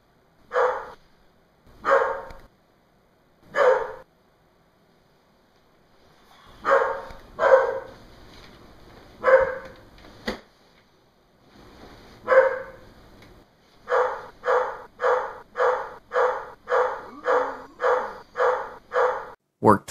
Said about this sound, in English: Was jolted and kept from sleep by dogs.